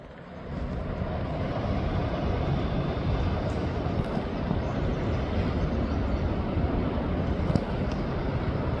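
A steady, broad rush of flowing water fills the scene, constant and fairly loud with no breaks.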